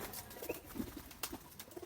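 Pigeons coo softly on a pigeon farm, low murmuring calls repeating faintly amid a quiet, rustling background.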